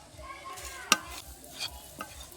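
Cashews stirred into a dry chickpea-lentil laddu mixture with ghee in a pan give a quiet scraping, with a sharp clack from the spoon near the middle and a softer one near the end.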